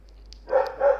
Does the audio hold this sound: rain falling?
no